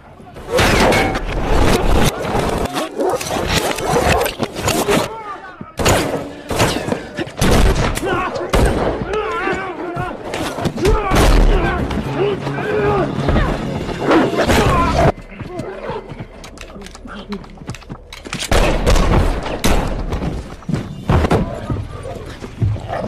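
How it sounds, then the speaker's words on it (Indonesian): Gunfire from a shootout scene in a John Wick action film: dense, loud bursts of rapid shots that run almost continuously and are mixed with other heavy film sound effects. "mereka berdua pun terlibat baku tembak dengan anak buah si pria"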